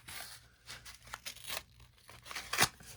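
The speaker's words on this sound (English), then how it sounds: "I'm just gonna rip them." Packaging for an alarm clock being torn open by hand, with bursts of crinkling plastic and ripping paper close up, ending in one sharp loud tear near the end. No one speaks.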